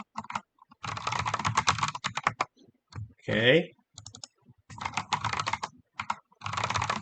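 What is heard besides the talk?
typing on a computer keyboard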